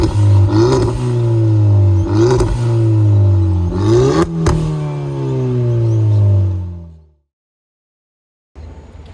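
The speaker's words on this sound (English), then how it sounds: "we'll see how that new bimodal exhaust system sounds" A tuned Hyundai i30 N-Line 1.6-litre hot hatch with a bimodal exhaust revving hard, three rising and falling blips then a long held roar that cuts off into silence before a faint restart.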